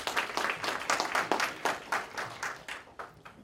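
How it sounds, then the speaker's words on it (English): Applause at a Capitol Hill policy forum on tax credits for Senator Sherrod Brown, a small crowd clapping in uneven rhythmic bursts that gradually taper off. "So I want to give a round of applause to Senator Sherrod Brown."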